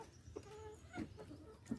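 Roosters squabbling in a chicken coop on a rural farm: a few faint, short clucks and squawks spaced apart over quiet background noise.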